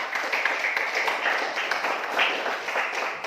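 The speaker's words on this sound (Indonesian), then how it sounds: "Kalau gitu beri tepuk tangan untuk kita semua." Students clap their hands together in a classroom, a moderately loud, continuous patter of many hands with no speech over it.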